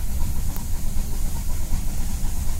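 A steam train on the Gloucestershire & Warwickshire Railway rumbles steadily with a constant low roar and broad hiss, close and continuous throughout, with no voices.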